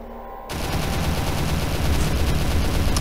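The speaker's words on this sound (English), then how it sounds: "Why are you shooting at me?" Sustained, dense gunfire from the SCP Roleplay video game erupts after a brief quiet start and continues loud and steady, a rapid barrage of shots layered on one another.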